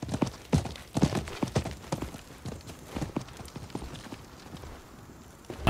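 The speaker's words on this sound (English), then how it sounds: "I think that was the merchant's horse." A horse in the Diablo 4 video game clip-clops in a quick, irregular hoof rhythm on hard ground, loud at first and then easing off, with no talk.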